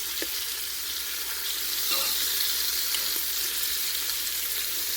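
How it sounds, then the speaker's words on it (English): Meat sears in a hot pan while being turned to brown on all sides, a steady broad sizzle running throughout with a few faint scrapes and clicks, close and uninterrupted. "So simply we're just going to saute it on all sides."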